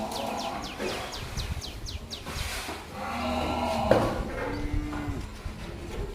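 Cows and buffaloes moo in long, deep calls at milking time in a muddy farmyard, with small birds chirping nearby between the bellows.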